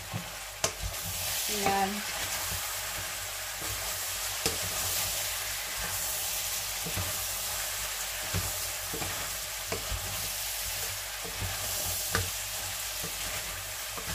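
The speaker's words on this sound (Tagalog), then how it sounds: "So, maglalagay din tayo ng kunting ketchup. Haluin muna natin." Butter shrimp stirred with ketchup in a frying pan: a continuous sizzle under repeated sharp clicks and scrapes of the utensil against the pan. A voice speaks briefly.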